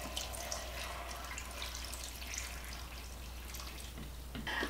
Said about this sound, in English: I'm going to put some more water over it to cover the top of it